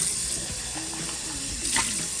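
Hot water gushes from a kitchen tap into a sink, a steady, close broadband hiss that swells briefly near the end.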